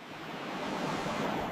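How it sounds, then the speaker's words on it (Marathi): A waterfall pours in a steady, broad rushing roar that swells slightly and fills the whole moment, with no voices over it. "हा धबधबा म्हणजे निसर्गाचं खरं गिफ्ट आहे"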